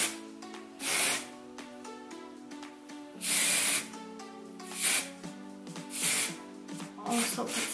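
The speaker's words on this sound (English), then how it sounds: "I spray it in the ends as well as like the roots of my hair" Short hissing bursts of Drybar dry shampoo aerosol spray come in four or five separate pumps onto hair, with a steady tonal hum playing underneath throughout.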